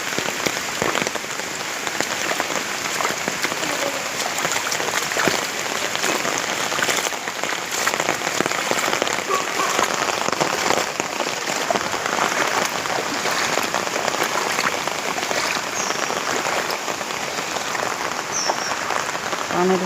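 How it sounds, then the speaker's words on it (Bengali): Heavy rain pours steadily onto flooded ground where ponds, homes and roads have merged under water, a dense, continuous hiss with no pauses and no voices. "অনেক ভারী বৃষ্টি"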